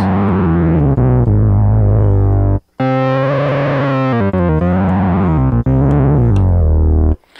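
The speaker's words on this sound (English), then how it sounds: "change between pink and white noise." Loud buzzing Minimoog synthesizer tones switching between pink and white noise, cutting out briefly twice, changing to brighter and then darker gritty timbres each time, with no voices.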